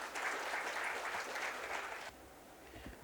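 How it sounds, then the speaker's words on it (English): An audience at a corporate event in Chennai applauds to welcome a speaker onto the stage, a dense burst of many hands clapping that cuts off abruptly after about two seconds, leaving quiet room tone. "Ladies and gentlemen, a big round of applause to welcome Mr."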